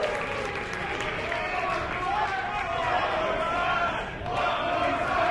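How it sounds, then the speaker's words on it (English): A crowd at a live wrestling show roars and chants in a dense, continuous wall of voices, with a commentator talking over the noise. "The crowd calling for another body slam."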